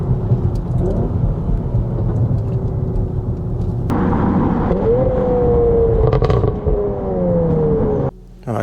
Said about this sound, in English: I do love how Asbo this exhaust is on this one